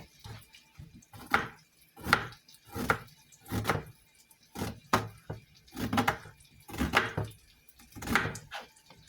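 A knife slices through döner meat in a kitchen in Türkiye with a series of close, soft rhythmic cutting strokes, about eleven in regular succession.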